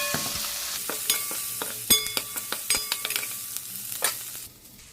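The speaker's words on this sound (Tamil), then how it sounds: "நல்லா வதக்கலாம்." Ten garlic cloves and onion are sautéed in a pan for fish head curry. A soft sizzle runs underneath while a spoon scrapes and clicks against the pan in quick, uneven strokes, close and with no talking.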